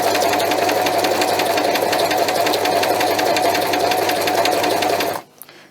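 A home sewing machine stitching in a front bedroom, a continuous loud, fast rhythmic whir of the needle mechanism running for about five seconds before it cuts off sharply.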